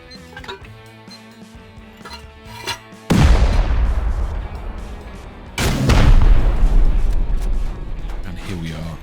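Two loud blasts during a base raid in the Rust video game, with an explosive charge and rocket, each a sudden heavy boom that decays into a long rumbling tail over background game music.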